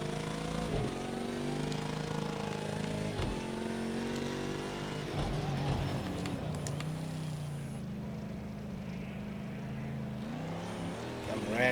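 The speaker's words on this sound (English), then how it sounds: "It's an odd sounding engine, sounds very sick" An exotic car engine revs and drones hard while racing on dirt in a video game, its pitch rising and falling through gear changes, loud and continuous with a rough, harmonic-heavy tone.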